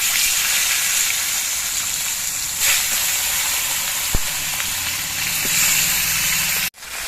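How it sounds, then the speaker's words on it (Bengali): Fish heads fry in hot mustard oil in a wok, giving a continuous close, bright sizzle with a small clink partway through and no talking. "কড়াইয়ের তেলটা গরম হয়ে গেছে এবার তেলের মধ্যে মাছের মাথাগুলো দিয়ে আমি ভেজে নিচ্ছি"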